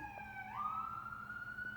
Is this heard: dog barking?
no